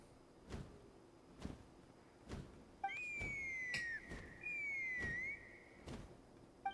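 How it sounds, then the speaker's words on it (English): Two rising-then-falling whistle calls, one after the other, in Genshin Impact's Tlalocan region, a signal used to summon a Kukasaur. They sound clear and fairly loud over quiet ambient game sound and soft thuds. "That sounded like a whistle."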